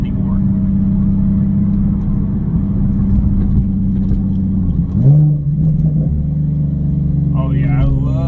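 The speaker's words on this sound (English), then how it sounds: "I love the automatic downshifts on this sport model. Perfect downshifts every time, and they sound gnarly with this exhaust." A Nissan 370Z with a GReddy Evo GT aftermarket exhaust drones steadily from inside the cabin, then makes a sharp automatic downshift blip with a rising rev around the middle, settling to a deeper rumble.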